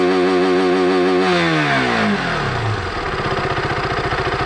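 A KTM motorcycle engine with its rev limiter removed, revving up hard toward 10500 RPM: a loud, steady drone climbs quickly in pitch, then settles into a rapid, buzzing high-rev roar close by.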